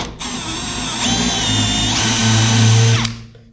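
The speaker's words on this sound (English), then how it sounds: "So from there, all I'm going to do is drill this out." A power drill whirs loudly and steadily for about three seconds, drilling out a spot weld on a VW Beetle front apron, its pitch shifting slightly as it bites into metal before stopping.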